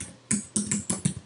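Several quick, crisp keystrokes on a computer keyboard, close and clear, entering text into a YouTube search box, with short irregular gaps between taps and no talking.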